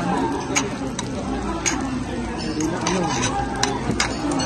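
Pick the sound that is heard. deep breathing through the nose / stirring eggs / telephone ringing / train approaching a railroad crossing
stirring eggs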